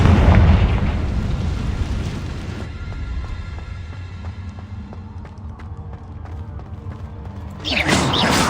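A Confringo fire spell explodes in Hogwarts Legacy, a loud roaring blast that rumbles for a couple of seconds and fades into game ambience, followed by another sharp burst near the end.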